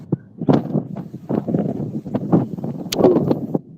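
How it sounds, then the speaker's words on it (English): Gusty wind of about 20 mph with blowing snow buffets the microphone in uneven bursts, producing loud low rumbling thumps and rustle. "it's windy"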